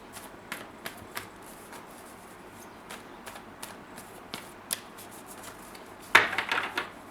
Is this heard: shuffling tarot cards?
yes